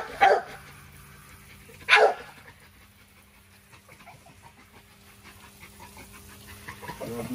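An XL Pitbull guard dog barks twice, sharp and fairly close, a second apart, followed by quiet with a faint steady hum and soft rustling, then a brief yelp near the end.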